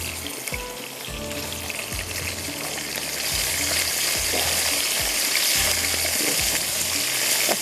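Potato and capsicum pieces frying on high heat, a loud continuous sizzle that swells partway through, with occasional stirring knocks underneath.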